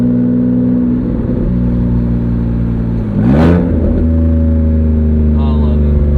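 A Rolls-Royce Wraith's engine drones steadily up close, its pitch dipping and then climbing as the car accelerates, while people talk over it inside the cabin.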